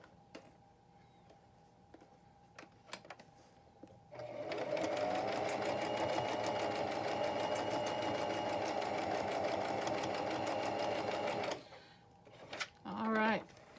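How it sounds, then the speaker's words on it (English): A sewing machine runs a quick straight stitch, a steady loud mechanical whirr lasting about seven seconds after some handling clicks, then stopping before a brief voice. "And I'm just going to do a straight stitch on that. Just a quick straight stitch."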